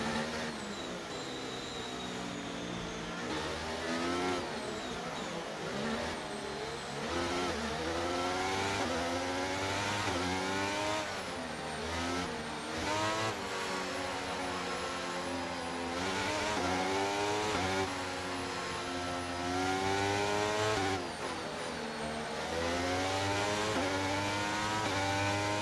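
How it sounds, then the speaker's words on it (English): Race cars in F1 23 accelerating together at a safety car restart, layered high-pitched engine whines rising and falling through gear changes, loud and continuous without talk. "When the field accelerates, remember there's no overtaking until the timing line"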